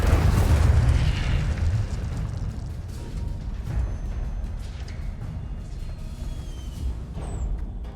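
Incendio fire spell in Hogwarts Legacy erupts as a heavy, booming blast that starts loud and rumbles on in a long, roaring wash of low noise slowly fading.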